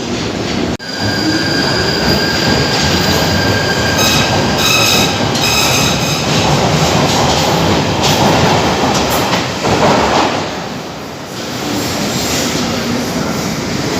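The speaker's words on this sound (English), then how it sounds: "There comes the train. It's going through so slow." A London Underground train rumbles steadily through a station at low speed, with a continuous roar, metallic wheel squeals and faint rhythmic clatter lasting throughout.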